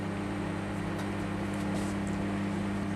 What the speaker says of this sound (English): I'll now turn the microwave oven onto full power for 3 minutes.